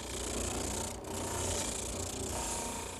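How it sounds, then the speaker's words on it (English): A bandsaw cuts through wood to trim the top of a piece for a croquet set and bench project, giving a steady, loud, close rasping whine with one brief dip partway through. "Now back to the bandsaw to sweeten the top."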